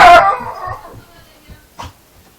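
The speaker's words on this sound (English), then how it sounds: "I don't know why Ginger barks" A dog barks once loudly up close, then a few softer yips and a short second bark trail off with quiet gaps between.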